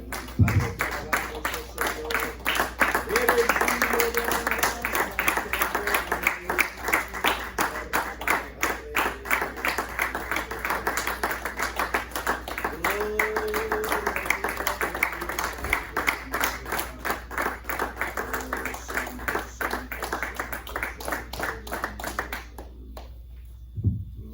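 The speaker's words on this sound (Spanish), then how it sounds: "Denle un fuerte aplauso al Señor." A church congregation claps for the Lord in a fast, steady rhythm for over twenty seconds, with voices running through it, before the clapping stops abruptly near the end.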